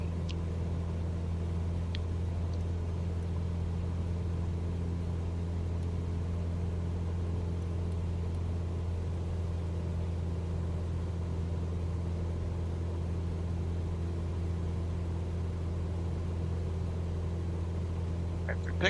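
A Cessna 172 engine drones steadily in flight just after takeoff, a constant low propeller hum and rumble heard from inside the cabin, unbroken throughout with no talk.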